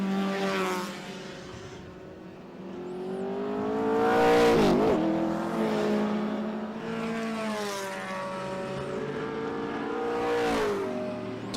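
Vintage race cars, an Alfa Romeo among them, roar past one after another at a circuit race meeting, engines rising and falling in repeated swells as each car approaches and recedes, heard from trackside at moderate distance.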